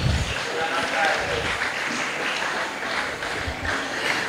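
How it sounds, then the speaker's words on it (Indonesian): Audience applause at a school closing ceremony for a language and national month event, a steady wash of clapping from a crowd throughout, with some voices mixed in underneath. "Tepuk tangan sikit."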